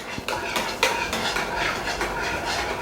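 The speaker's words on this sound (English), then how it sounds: "And then we are going to stir." A utensil stirs bread roll dough in a bowl, producing repeated clinks and scraping taps against the bowl at close range, with no talking.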